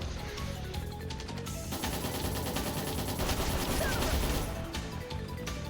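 Rapid gunfire and missile blasts in the video game Trails in the Sky the 3rd, a dense burst of shots and impacts over a music bed that peaks mid-clip and then eases back.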